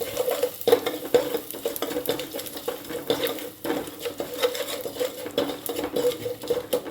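A spice tempering with asafoetida and dried red chilli sizzles steadily in a steel pan for a vegetable pulusu, with scraping stirs and brief clinks over a continuous close crackle.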